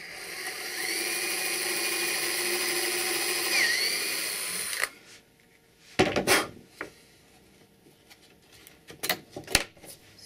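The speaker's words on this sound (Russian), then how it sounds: "И сверли сразу большим сверлом. По кондуктору." A power drill with a large bit bores through a ski at a mounting jig for fitting bindings, a steady loud whine for several seconds that stops abruptly, followed by scattered knocks and clatter.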